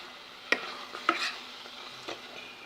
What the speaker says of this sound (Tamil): இப்போ நல்லா கொதிக்க ஆரம்பிச்சிச்சு